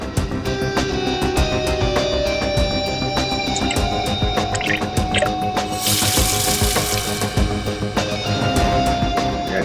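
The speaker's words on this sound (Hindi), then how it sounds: "पानी यहाँ स्पीकर से आया और वो गीला हो गया" Water gushes steadily from a speaker inside a lift, a continuous splashing pour that swells louder near the end with a brief rush of spray.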